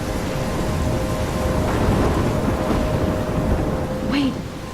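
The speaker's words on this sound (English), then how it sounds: "I'm trapped in a storm?" A thunderstorm with rain in Life Is Strange pours as a loud, continuous hiss of rain and deep rumbling thunder that swells midway, ending with a brief higher squeal, and no one speaks.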